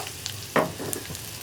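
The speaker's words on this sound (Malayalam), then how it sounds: "അതിലേക്ക് നമ്മൾ കട്ട് ചെയ്ത് വെച്ചിരിക്കുന്ന സവോള, അതുപോലെ ഇഞ്ചി, പിന്നെ നമ്മുടെ വറ്റൽമുളക് ഇത്രയും ചേർത്ത് കൊടുക്കുക" Sliced onion, ginger and dried red chillies hit hot coconut oil for a prawn fry. A sudden loud splash of sizzle is followed by a steady hiss and light stirring scrapes, close up and without talk.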